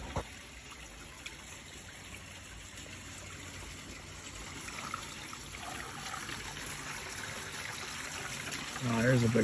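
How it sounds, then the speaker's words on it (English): Rainwater runs steadily through a rain gutter carrying debris, a continuous low trickling and gushing flow that swells slightly toward the end, with a brief louder splash at the close. "It's like a river through here now."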